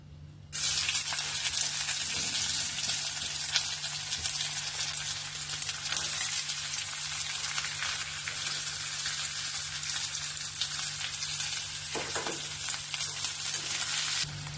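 Onions frying in a hot pan with a little sugar, a steady loud sizzle that carries unbroken for most of the stretch, with a brief scrape or stir near the end and no voices.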